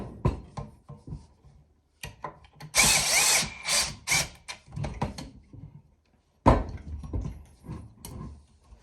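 A power drill driving screws while an IKEA DALFRED bar stool is assembled, with short whirring bursts between quiet pauses and clicks and knocks of metal parts up close.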